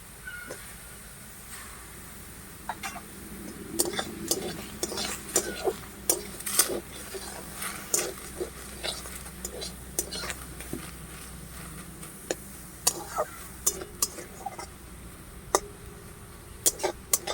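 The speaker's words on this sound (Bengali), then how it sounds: "টমেটোকেও খুব ভালো করে একটু ভাজাভাজি করে নেবো" Chopped tomatoes are stirred in a pan with onions and no oil while cooking ghugni, with scattered scraping and clinking taps of a spoon against the pan over a quiet background hiss, close and irregular, with no talking.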